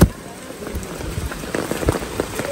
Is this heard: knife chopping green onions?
no